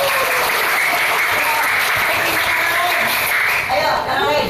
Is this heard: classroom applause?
yes